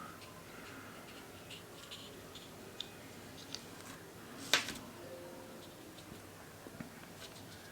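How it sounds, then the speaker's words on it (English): Scissors snip faintly at a ball python egg's leathery shell, a few soft ticks and one sharper cut standing out against quiet background noise. "when we cut these eggs"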